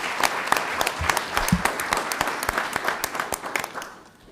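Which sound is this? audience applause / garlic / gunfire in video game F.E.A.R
audience applause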